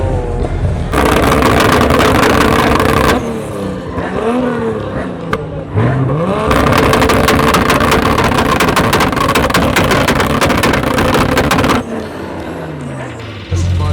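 Motorcycle engines roaring in a crowded rev battle among a packed gathering of bikers, loud sustained revving with rising and falling pitch sweeps, a short dip near the middle, then another long blast.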